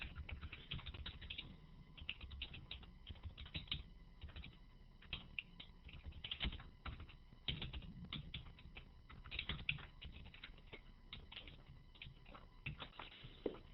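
Continuous close-up typing on a computer keyboard during an e-exam session in Berlin, with dense, irregular key clicks and occasional louder strokes keeping up a steady pattering rhythm throughout.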